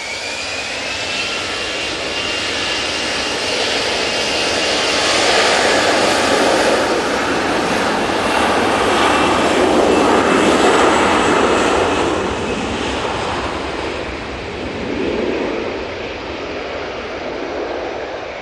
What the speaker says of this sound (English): And here goes the 321 CEO.